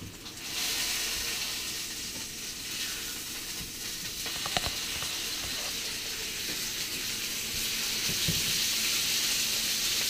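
Pork chops sear in a hot pan with a steady, loud broadband sizzle and hiss that runs throughout, punctuated by a few brief clicks and spatters near the middle and toward the end.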